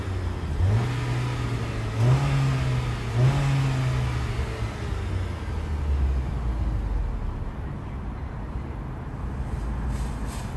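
A 2016 Dodge Journey engine idles steadily after a Sea Foam treatment, a loud continuous low rumble with a few brief revs early on, heard close and alone.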